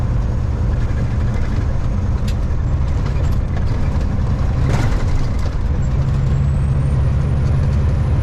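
Truck air brakes hiss amid a steady, loud roar of traffic and engine noise on a busy road, with a brief louder burst near the middle.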